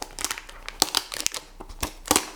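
Plastic and cardboard packaging around a Surface Pro 6 keyboard crinkles and crackles in quick, irregular bursts close to the microphone, with no talking.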